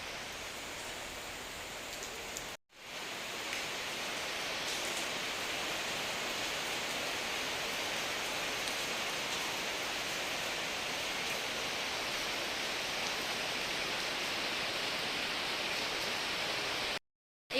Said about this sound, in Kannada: ಇವಾಗ ಮಳೆ ಬಂತು ಜೋರು